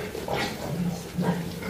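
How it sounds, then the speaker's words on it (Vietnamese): Young weaned pigs grunt while being fed in the morning on a farm, giving two close, low, rough grunts over steady background noise. "Đây buổi sáng đàn heo của mình cho nó ăn nè các bạn."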